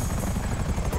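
A GTA 5 Online helicopter roars close and loud, its rotor beating in a fast low chop beneath a constant engine hum.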